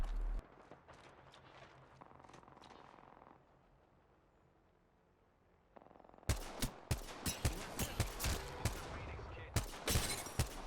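Rapid gunfire in the online shooter Apex Legends rings out in dense, loud bursts during the second half, following a quieter stretch with scattered faint game sounds.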